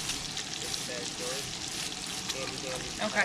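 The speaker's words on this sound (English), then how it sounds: "second half of the bacon is cooking" Bacon frying in a pan over a camp stove, a steady close sizzle and crackle throughout, with a brief spoken word near the start.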